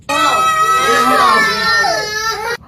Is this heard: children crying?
yes